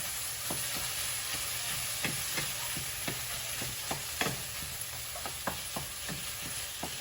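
Ground beef frying in a pan, a steady soft sizzle overlaid with scattered light clicks and scrapes of stirring, close and moderately quiet, with no voices.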